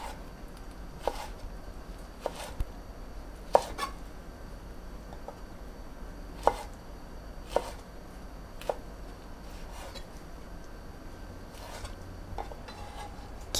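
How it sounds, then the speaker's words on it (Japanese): A kitchen knife cutting okra into small irregular chunks on a cutting board, with scattered soft knocks of the blade at uneven intervals and faint handling sounds between them. "オクラを転がしながら包丁を斜めに入れて切っていきます"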